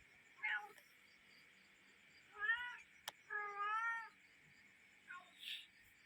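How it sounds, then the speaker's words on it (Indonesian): A cat meows while eating at midnight, several close, drawn-out meows spread across the clip with quiet gaps between them, over a faint steady insect-like hum in the background. "Lilir tengah wengi ndelok kucing mangan."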